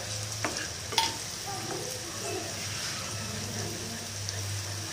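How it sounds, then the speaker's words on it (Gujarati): Onion and ginger-chili-garlic paste sauté in a pan over medium heat, giving a steady close sizzle with occasional clinks and scrapes of stirring. No voices are heard. "આપણે એકથી બે મિનિટ સુધી સાંતળીશું મીડિયમ ગેસે"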